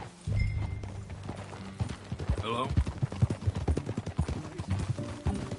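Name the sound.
horse hooves while riding, from a video game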